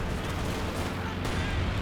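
Sexton self-propelled artillery firing in a Company of Heroes 2 match, a dense, continuous barrage of booming blasts with low rumble throughout, loud and sustained over battle noise.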